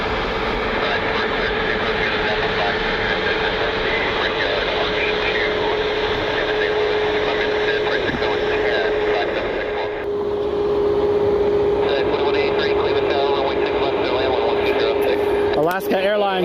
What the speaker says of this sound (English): Alaska Airlines 216 heading back to Seattle. 737 MAX 9 here tonight.